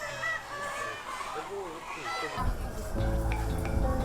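Hens cluck and murmur in short, scattered calls on a Vietnamese egg farm over a busy background, growing louder toward the end, with a person speaking over part of it.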